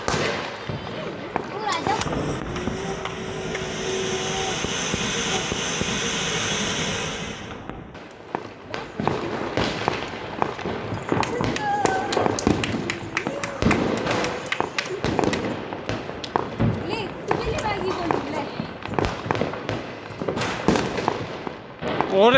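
Diwali firecrackers pop and crackle in a rapid, irregular string of sharp bursts, loud and close, after an earlier stretch of steady hiss, with people talking in the background.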